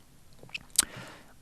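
Crystal malt grains crunched between the teeth, with one short, crisp crunch near the middle amid a few faint mouth sounds, quiet and close.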